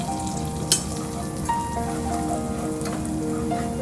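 Garlic and chilli fry in oil for a cabbage curry, giving a continuous close sizzle and crackle with an occasional sharper pop, while a faint steady hum runs underneath.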